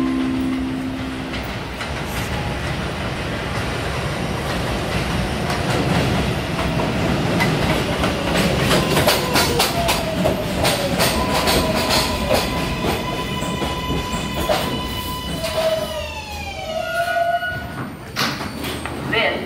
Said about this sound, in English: train to Woodlawn approaching the station,